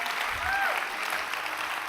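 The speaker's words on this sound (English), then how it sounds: "So give yourselves a round of applause for the effort of being here." A seated audience gives a brief, steady round of applause at a business conference session, a dense wash of many hands clapping together with no break, at a moderate level.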